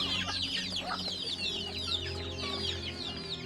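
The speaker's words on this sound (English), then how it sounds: "Mom's got about 50 head of baby chickens and half-grown chickens in the tubs." About fifty baby and half-grown chickens cluck and peep continuously in tubs on a hoarded farm, a dense overlapping chatter of chirps over a steady low hum, close and unbroken with no talk.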